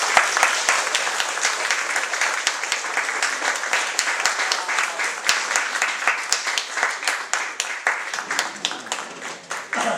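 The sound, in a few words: applause for the Buffalo Soldiers marching in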